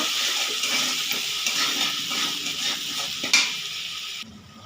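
Spice paste with turmeric and salt is stirred and sautéed in hot oil for a Bengali fish curry, giving a steady, close sizzling hiss with soft scraping strokes throughout and no voices.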